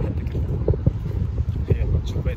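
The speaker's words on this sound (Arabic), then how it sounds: "الهوا شديد جدا عارف، معلش بعتذر على الصوت." Strong seaside wind buffets the microphone in heavy, rumbling gusts, with water sloshing faintly behind it and a voice speaking under the noise.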